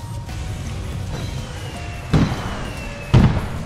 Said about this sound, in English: Fireworks on us.